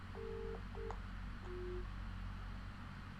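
Telephone call tones on a line: several short steady beeps in a row, then a single longer tone, heard alone over a constant background hiss with no talking.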